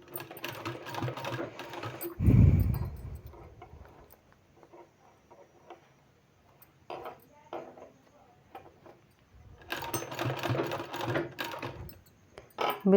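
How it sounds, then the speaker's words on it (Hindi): Sewing machine stitching folded fabric for palazzo pants, heard in short bursts of rapid mechanical whirring with quieter gaps between runs and a brief loud thump near the start. "इस तरह से फोल्ड करते हुए हमको सिलाई लगाना है।"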